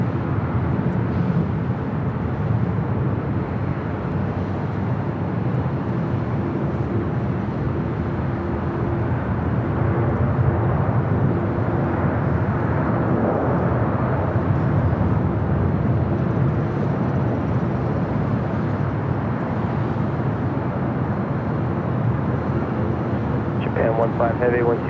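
A Japan Airlines Boeing 777-300ER jet at LAX, departing for Tokyo Haneda, produces a loud, continuous engine roar that holds steady throughout, with voices faintly audible underneath.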